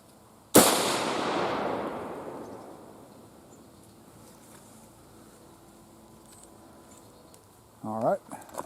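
A single loud Marlin 336 rifle shot fired with Winchester XP deer ammunition while sighting in at 100 yards cracks sharply and echoes away over a few seconds, followed by a brief voice near the end.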